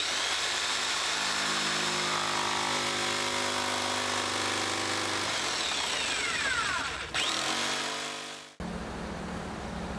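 A power tool whines steadily while cutting a plastic sheet, pitch shifting and sweeping as the blade works through, then winding down and changing tone near the end; close, continuous and without talk.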